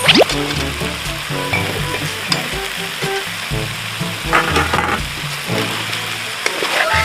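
Carrots and potatoes frying in a pan for chicken pastel, a steady close sizzle with stirring clatter and scraping throughout, no talking.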